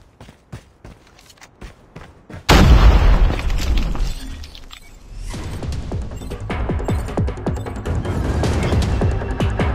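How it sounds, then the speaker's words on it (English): Grenade explosion in the mobile shooter COD Mobile, a sudden loud boom after quiet footsteps, a rumbling decay, then continuing gunfire and battle noise. "Grenade out!"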